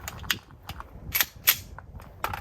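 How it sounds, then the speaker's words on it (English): A handgun being loaded at a multigun match, heard as a few sharp metallic clicks and clacks close by in a short quick sequence, with no voices. "Now I'm going to load my handgun."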